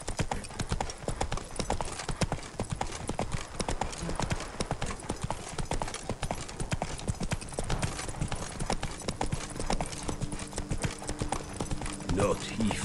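Horse hooves clip-clop steadily and continuously in The Witcher 3: Wild Hunt, Blood and Wine, a brisk rhythmic trot with a constant background hum throughout.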